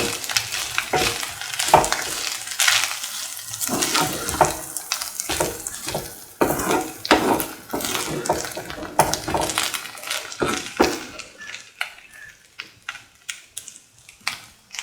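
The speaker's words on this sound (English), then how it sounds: "Now put in the curry leaves and mix" Curry leaves are stirred into lemon potato rice frying in a pan, giving repeated scraping and clacking strokes of a spoon over a sizzling hiss. The strokes are close and fairly loud, and they thin out toward the end.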